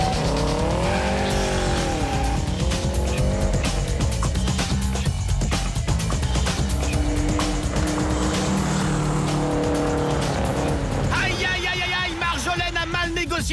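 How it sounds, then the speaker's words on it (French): A car drifting in a Bullrun USA 2009 driving duel, its engine roaring steadily while the tires squeal through a long slide, with loud continuous engine and tire noise throughout. "elle ne stabilise pas son dérapage et sort de la route"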